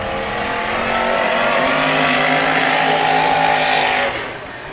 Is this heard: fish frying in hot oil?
no